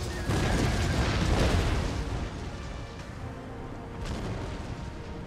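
Heavy booming blasts of cannon fire in the video game Empire: Total War roll together in a loud, sustained barrage that gradually fades into a softer rumble, with a faint voice mixed in.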